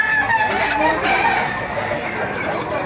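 A Bulig-breed rooster crows at a busy poultry market, its drawn-out call loud and close over a dense background of other fowl clucking and crowd chatter.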